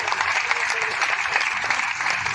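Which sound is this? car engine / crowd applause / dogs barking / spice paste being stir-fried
crowd applause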